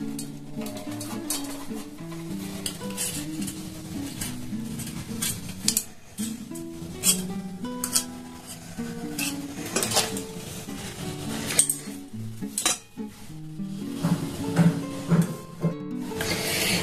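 Metal utensils clink and scrape against a steel tiffin box while hot kalakand is pressed down into it, a steady run of close, busy kitchen clatter.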